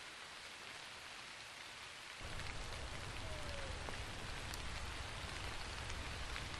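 Steady rain falls on dry, parched ground during an Illinois archery hunt, a dense wash of drops that starts lighter and then swells heavier, with no talk.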